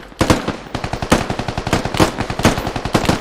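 Machine gun fire in a squad-based video game, with loud, continuous rapid bursts of shots hammering in a fast steady rhythm for several seconds, close and dominant, with no talk over it.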